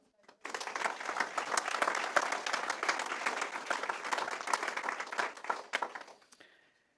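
Hall audience at a panel discussion on press freedom welcoming guest Yavuz Baydar with warm applause, many hands clapping densely and steadily for about six seconds before it fades out.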